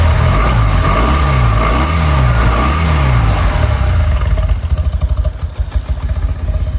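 A BMW R1200 C motorcycle engine, loud and close, revved in three rising and falling swells before settling into a lumpy, pulsing idle.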